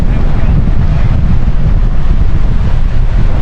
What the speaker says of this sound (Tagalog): hindi mainit ngayon, malamig yung hangin.